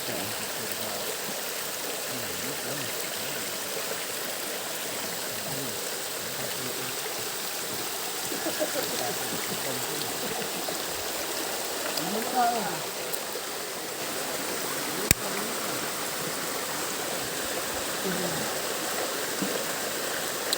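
Stream water flowing steadily in a nature park, a broad continuous rush filling the background close by, with faint voices talking underneath.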